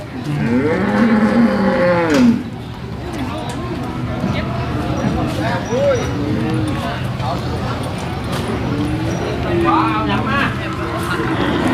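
Cattle at a Thai cattle market moo loudly and repeatedly, some calls near and others farther off, under steady crowd chatter and people talking.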